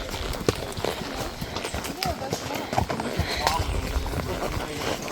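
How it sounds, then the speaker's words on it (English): Horse hooves clop rhythmically on a horseback trail ride in the Smoky Mountains near the Sugarlands Visitor Center, a busy outdoor scene with people talking over the irregular footfalls. "And there's my horsey Prince."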